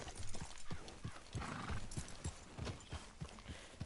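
Horse hooves clip-clop steadily at a walking pace in Red Dead Redemption 2, a quick repeated rhythm of soft thuds over a faint background, with no one talking.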